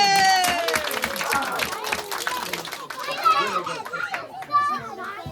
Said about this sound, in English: Will everybody give her a really big clap?